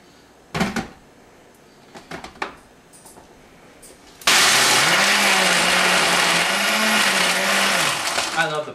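A few scattered knocks and clatters give way to a blender mixing a shake. Its motor roars up loud and close and holds a steady whirring drone with a slightly wavering pitch until the end.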